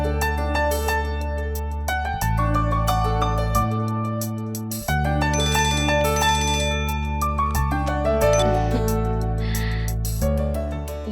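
A phone ringtone plays a loud, continuous melodic electronic tune in repeating phrases for several seconds, close and alone, with no talk over it.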